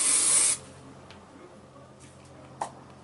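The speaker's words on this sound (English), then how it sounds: "And then I just do a light spray." A short hissing burst of hair spray on synthetic hair lasting half a second, then quiet with faint handling noises.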